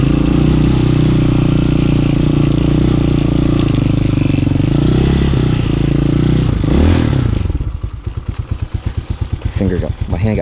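Hawk 250cc dual sport motorcycle with its throttle held open, a loud sustained engine roar close by that swells and then drops into a rapid, uneven idle chug while a rider talks.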